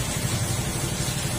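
A Honda Wave 125 motorcycle engine idles steadily after a timing tune-up, a low, even rumble close to the listener and alone, with no rocker-arm ticking standing out.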